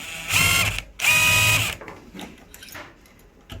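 A power drill unscrews the remaining screws from an inner door's doorknob, making two loud whirring bursts, followed by quieter clicks and handling of the hardware.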